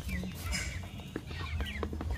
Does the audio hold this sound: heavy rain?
no